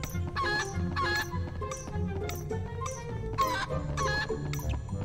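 Chickens cluck repeatedly in a Harry Potter PS1 video game, a busy run of bursts with brief gaps, fairly loud over a steady background.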